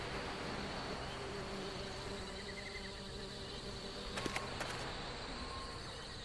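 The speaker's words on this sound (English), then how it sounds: "There are bees buzzing around all over the place" Faint, continuous buzzing of bees droning over a hissy background in a video game, with a couple of brief high chirps partway through.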